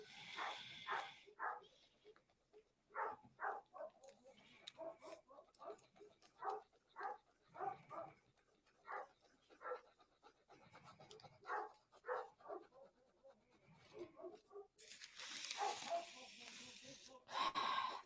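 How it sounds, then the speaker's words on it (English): Several outdoor dogs, stirred up by coyotes, bark and pant in repeated bursts at a distance, while a person talks over the barking throughout. "I again apologize for my outside dogs."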